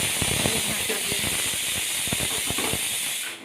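Ilish fish steaming in a covered wok, with a constant loud hiss of escaping steam and faint low clicks and bubbling beneath, fading at the end.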